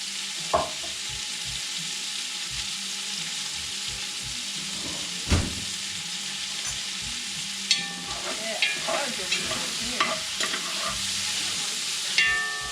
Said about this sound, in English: As that sausage cooks, you'll notice starting.